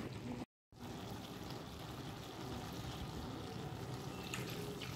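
Water pours into a cooking pot of Bengali shukto in a home kitchen, a steady close rushing stream that briefly cuts out near the start, then runs on evenly.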